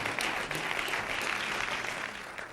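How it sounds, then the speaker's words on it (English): Audience applause for LeBron James at a county State of the County event, steady dense clapping filling the whole stretch at an even level without letting up. "you can clap for LeBron, that's good."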